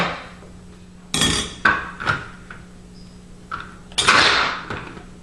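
A mini food processor pulses peeled onions in short, sharp bursts, a handful of quick whirring chops separated by pauses, close and fairly loud with clattering of the bowl and lid.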